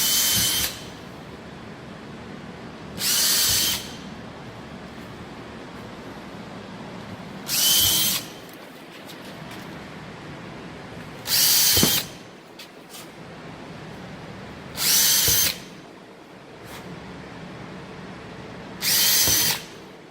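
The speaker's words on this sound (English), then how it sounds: "drill each hole, or drill each center punch that you just did" Power drill boring holes into a Dodge Charger SRT during a Wickerbill installation, six short loud bursts of high whine separated by pauses of a few seconds, close up over a quiet background.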